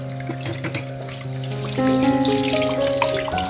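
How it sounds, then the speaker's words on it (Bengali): Cups and saucers being rinsed under a running tap, a continuous rush of water with clinks and shifting tones as crockery passes through the stream, close and fairly loud. "আর এই যে আমি কাপ পিরিচ গুলো ধুয়ে নিতেছি।"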